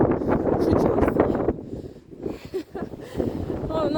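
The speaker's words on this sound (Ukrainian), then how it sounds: "сьогодні вітер, я не знаю, що там буде чутно" Gusty wind buffeting the microphone in loud rumbling bursts, with a person talking through parts of it.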